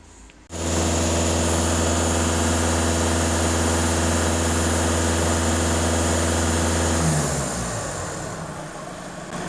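A Skoda Octavia A7 2.0 TDI diesel engine starts abruptly and runs with a steady, loud drone, then winds down in pitch near the end during DPF and EGR system cleaning.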